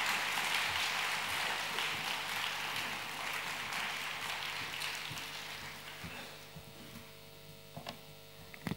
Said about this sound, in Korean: 큰 박수로 한번 환영하겠습니다.